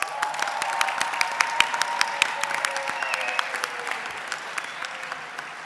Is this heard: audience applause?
yes